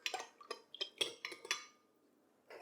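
A utensil quickly stirring salt and vinegar in a bowl, a run of about six clinking, scraping strokes in brisk rhythm, close and fairly clear, then a short pause and one more scrape.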